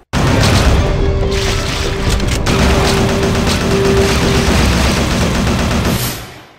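Gunfire and explosions from the Android shooting game Alien Zone Plus rumble and crackle densely and loudly without a break, a continuous barrage that fades out at the very end.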